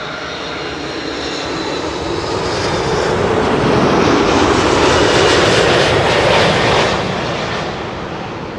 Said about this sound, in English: A330, the next 747 of the show, is going to land. This is Delta Airlines flight 164